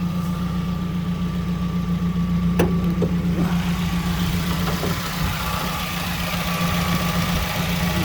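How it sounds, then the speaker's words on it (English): A 2004 Celica GT engine idles steadily up close, a constant low hum with a few light clicks and rattles over it. "Car's still running."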